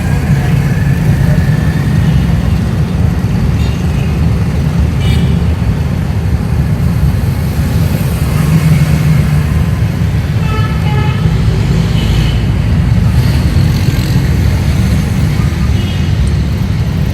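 Busy road traffic on Murree Road in Rawalpindi, beneath a metro bridge, hums continuously with engines and passing vehicles, punctuated by scattered horn toots near and far.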